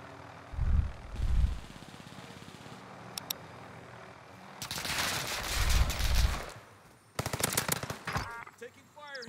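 Video game firefight with bursts of automatic gunfire, single shots and heavy rattling volleys, loud and near, with faint voices beneath.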